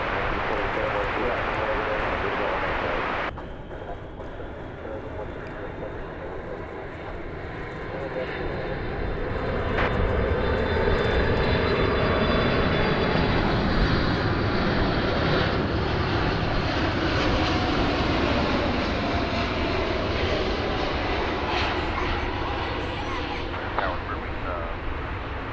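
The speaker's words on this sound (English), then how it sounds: "we've got a 747 coming in" A Cargolux Boeing 747 cargo jet landing at an airport, its engines a steady loud roar that swells and holds, with a sudden shift in tone early on and faint talk mixed in.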